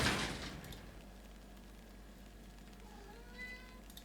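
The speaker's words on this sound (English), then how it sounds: "Yes, Mr. Cat, what's up?" A cat meowing in the video game Book of Hours, a brief faint call near the start followed by quiet ambient background.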